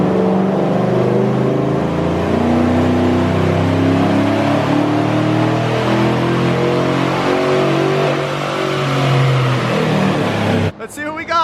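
A Chevrolet Silverado pickup roars on a chassis dyno during a third-gear pull, its loud engine tone climbing steadily through the revs before cutting off abruptly near the end.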